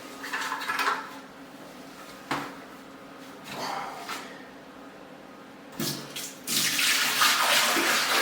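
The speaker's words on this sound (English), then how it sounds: "we're going to pour a bucket of water in the back of here" Bucket of water poured into the back tank of a toilet in a small barndominium, heard as intermittent splashing bursts and gushes with pauses between, ending in a sustained loud rushing pour.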